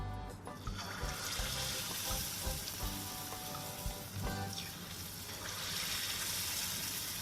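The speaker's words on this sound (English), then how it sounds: "take a scoop of the batter and place it in the oil" Pholourie batter fries in hot oil over medium to high heat, a steady, dense sizzle and crackle running loud and unbroken throughout, with occasional sharper pops and no talking.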